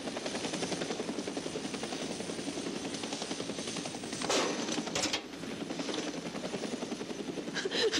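A helicopter's rotor thumps steadily overhead, loud and continuous, with a couple of brief sharp bursts partway through.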